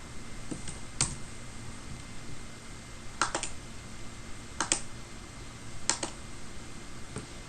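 Sparse keystrokes on a computer keyboard while a hotspot login address is entered in a browser, clicks coming singly and in quick pairs with pauses between, close and clear over a faint steady background hum.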